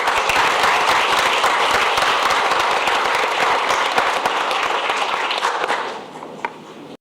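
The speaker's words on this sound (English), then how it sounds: "So please give them a round of applause." A school board meeting audience claps steadily and loudly for grant-winning staff from Hickory Grove, a dense continuous burst that holds for several seconds before tapering off quickly near the end, with no one speaking.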